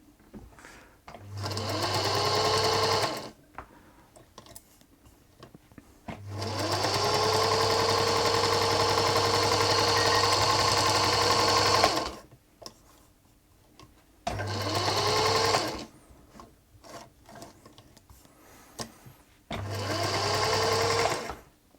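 A Singer Featherweight 221K Centenary sewing machine, rescued and restored, runs in four separate bursts of close, fairly loud whirring and clatter, with short quiet pauses between them.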